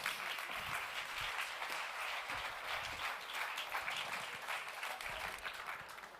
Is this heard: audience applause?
yes